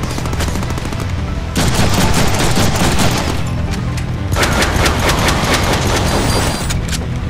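Heavy gunfire in the Deadpool video game, loud overlapping automatic bursts and shotgun-like blasts rattling continuously for several seconds, with short dips between volleys.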